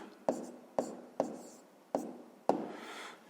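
Pen or pencil strokes writing out digits of a decimal number by hand during a fifth-grade maths lesson, five sharp taps and short scratches at a steady rhythm, close and fairly quiet with no talking.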